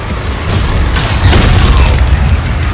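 The Reaver Shot, a ballistic iron mace weapon in Doom: The Dark Ages, fires with loud booming blasts and heavy mechanical clanks in quick succession, close and dense over a short burst.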